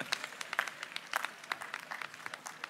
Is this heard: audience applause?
yes